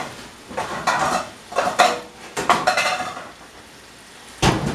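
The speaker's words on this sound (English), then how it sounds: "I gotta get in here and grab my other skillet." A metal skillet is grabbed and handled among kitchen cookware, with several loud, close clanks and clatters in quick bursts separated by brief pauses.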